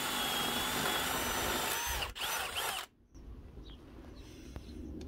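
A power drill bores into wood with a cheap spade bit, a loud, strained whine under heavy pressure for nearly three seconds, then a sudden drop to quiet with a few faint clicks.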